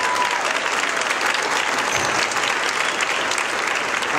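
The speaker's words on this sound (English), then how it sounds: "Let's hear a round of applause for the school teacher." A large audience claps and cheers for school teachers at a talk about living and working in space; dense, steady applause fills the whole stretch at close range.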